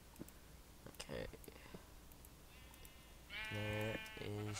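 Sheep in the Minecraft video game give two loud, close bleats near the end, after quiet clicks and soft whispered speech.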